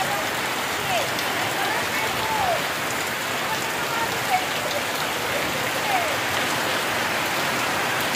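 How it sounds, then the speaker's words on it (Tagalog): Heavy rain pours steadily in a dense, unbroken hiss, drops drumming on surfaces close by, with no break throughout. "Sobrang lakas ng ulan."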